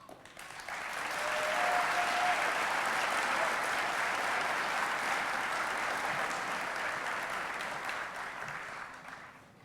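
Audience at a high school commencement ceremony bursts into sustained applause, swelling quickly and holding steady for several seconds before tapering off, with no talk over it.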